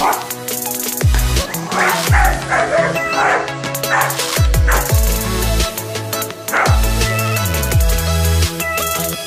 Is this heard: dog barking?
yes